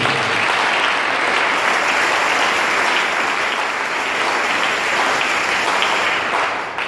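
A church congregation bursts into loud, sustained applause and cheering for the Lord Jesus, a dense wash of clapping that holds steady for several seconds before easing slightly at the end.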